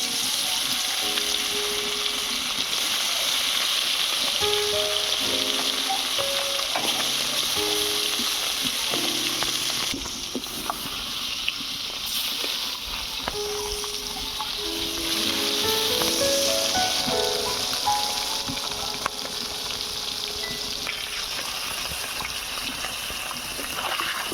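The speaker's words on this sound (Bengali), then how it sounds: "এবারে দিয়ে দিচ্ছি সরিষার তেল মাছগুলো এবারে ভেজে নেবে" Koi fish fry in mustard oil with a loud, constant, crackling sizzle that continues for over twenty seconds, dipping briefly midway, with a few faint tones and knocks and no talking.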